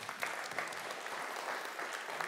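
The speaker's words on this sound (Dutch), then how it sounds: "Nog een applaus." An audience at a logistics talk show event applauds steadily, a dense, even wash of many hands clapping at moderate distance, with no talk over it.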